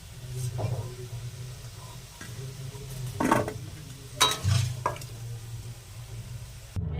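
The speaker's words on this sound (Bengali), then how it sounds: "আলুটা ভাজা ভাজা হয়ে গেছে এবার দেখো ভাজা হয়ে গেছে এবার তুলে নেব" Fried potatoes being stirred and scooped out of a frying pan, with soft sizzling beneath scattered scraping and clinking of a utensil against the pan, heard close and fairly faint.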